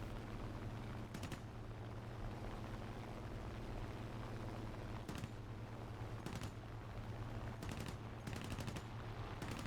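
A premium Spitfire's .50 cal machine guns fire in several short bursts of rapid rattling over a steady engine drone, fairly faint and spaced apart.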